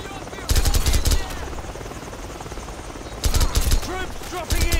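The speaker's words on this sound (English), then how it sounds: "Heads up! Choppers inbound!" Helicopters approaching in the Call of Duty 4: Modern Warfare game, a constant rotor thrum under voices, with loud bursts of gunfire near the start and the end.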